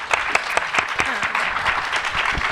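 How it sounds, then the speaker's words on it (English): Conference audience applauding to welcome speakers, a dense burst of clapping from a seated crowd, moderately loud and continuous throughout. "Let's give them all a round of applause and a welcome."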